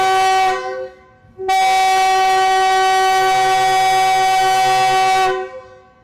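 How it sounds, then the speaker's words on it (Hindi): A loud train horn blares twice as the Khushal Khan Khattak Express departs a station on Pakistan's Karachi–Peshawar main line, a short blast followed by a long sustained one, strong and close. "दोनों डिपार्चर हॉर्न दे दिए ड्राइवर साहब ने और ट्रेन रवाना हो गई"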